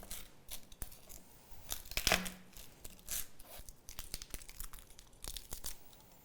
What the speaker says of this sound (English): I'm just going to use the palm of my hand and crush the garlic to help get that paper off of them.